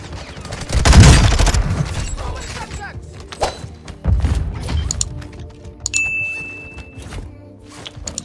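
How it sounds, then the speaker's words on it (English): In Call of Duty Warzone, a loud close grenade blast booms, followed by thuds and scattered gunfire, with players talking over the game audio. "Oh, grenade."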